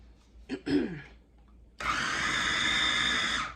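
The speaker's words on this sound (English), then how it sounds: "I'm gonna just chop up and blend this stuff all together" A blender whirs loud and steady as it chops and blends vegan burger ingredients, starting abruptly after a few soft knocks and handling noises.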